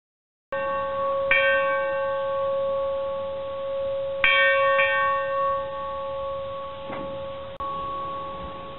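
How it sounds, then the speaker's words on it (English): The bell of an 1888 Porter steam locomotive, built by H.K. Porter in Pittsburgh, is struck by hand several times, each clear metallic clang ringing on and slowly fading before the next strike, heard close and alone. "and even ring the locomotive's bell"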